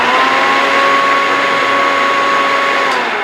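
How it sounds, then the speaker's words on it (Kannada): A mixer grinder whirs steadily with a lid on, blending salt into water, its loud motor drone holding an even pitch throughout with no voices. "ಸಾಲ್ಟ್ ಹಾಕಿದ್ಮೇಲೆ ನೋಡಿ ಸ್ವಲ್ಪ ಮಿಕ್ಸಿಂಗ್ ಆಗೋಕ್ಕೆ ಆನ್ ಮಾಡ್ತೀನಿ."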